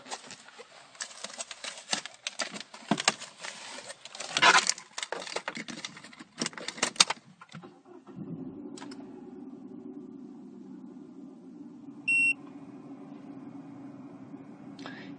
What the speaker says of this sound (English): If I now start the vehicle up,